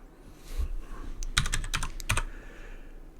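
Rapid clicks of typing on a computer keyboard while selecting hair assets for a character face, a few quick bursts of keystrokes up close with no talking.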